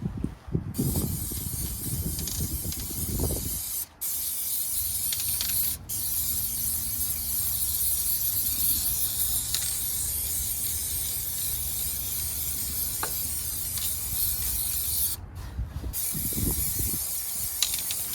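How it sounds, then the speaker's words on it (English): Long, steady hiss of an aerosol can spraying undercoating into a 2010 Ford F-150 wheel well close by, broken by a couple of brief pauses between bursts, with strong wind buffeting in the background. "Now I'm going to spray the remaining can here."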